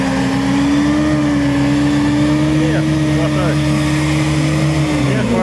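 A UAZ Bukhanka off-road van grinds up a climb, its engine holding a steady, loud, droning rev throughout, with faint voices under it.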